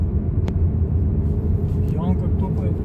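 Honda Vezel engine running steadily after intake, valve, injector and combustion chamber cleaning, with a cleaned and calibrated throttle body, a low continuous rumble at close range, and brief speech in the second half.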